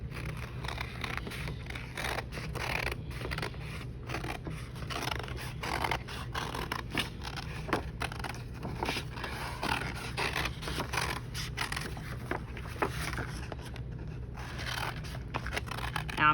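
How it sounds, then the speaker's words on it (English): Scissors cutting paper quickly around a hat shape, a steady run of close, crisp snips and rustling paper with no talk. "Now I'm cutting pretty fast."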